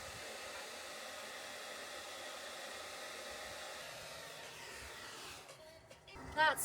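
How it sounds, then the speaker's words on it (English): A hair dryer drying paint on a school bus door in winter blows with a constant, fairly quiet whoosh before cutting off near the end, followed by a brief faint clatter. "I will be using my hairdryer to dry the paint"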